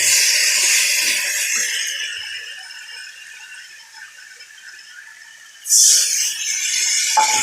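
Spice paste fries in a pan, a loud hissing sizzle that gradually fades to near quiet, then flares up sharply again as something is stirred or added.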